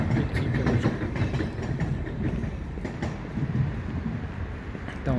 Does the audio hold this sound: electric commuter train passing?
yes